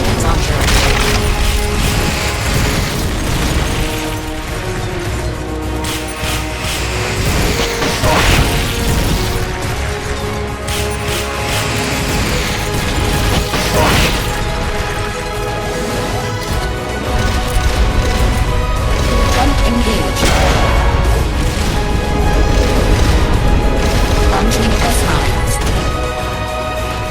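Rocket launcher fire and explosions in Metal Gear Solid: Peace Walker, a continuous loud wash of booms, crashes and mechanical clatter running throughout with no clear breaks.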